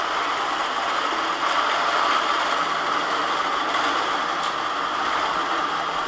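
A long-arm quilting machine runs a meander stitching pattern, giving a steady, even mechanical whir and hum that continues unbroken and fairly loud throughout.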